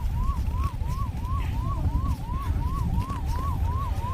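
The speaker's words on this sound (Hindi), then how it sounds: "एबे एम्बुलेंस इमरजेंसी सायरन देकरी भी अच्छे" An ambulance emergency siren wails in a fast, steady up-and-down cycle, repeating about nine times in four seconds over a constant low rumble of traffic or engine noise, with no voices.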